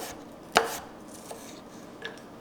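Ginger and turmeric roots are chopped with a knife for ginger tea: one sharp, close cut rings out, then two fainter knife taps follow, spread apart in a quiet room.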